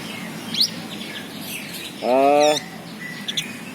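Calls of a cendet, the long-tailed shrike, kept as a songbird: a few sharp chirps and a harsh, buzzy harmonic call lasting about half a second, heard fairly close over a quiet background.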